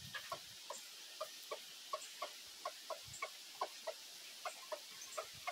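A rooster or other pet fowl gives a run of short, rhythmic clucking calls, evenly spaced and fairly close, with no talking over them.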